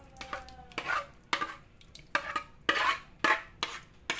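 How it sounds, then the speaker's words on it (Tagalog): Cooked pandan gulaman jelly thickened with cornstarch being poured and scraped from a pot, with several distinct clanks and scrapes of utensil against cookware, close by and moderately loud, with no talking. "Bubuhos na natin itong niluto natin na"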